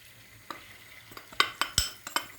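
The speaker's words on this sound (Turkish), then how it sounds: "Karıştırıyoruz. Yağda onu kavuruyoruz." Flour being stirred and roasted in oil in a pan for tomato soup, a soft sizzle broken by a run of sharp spoon-on-pan scrapes and taps that quicken toward the end.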